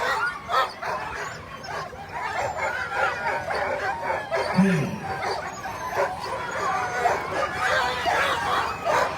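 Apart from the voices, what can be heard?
sled dogs barking at race start line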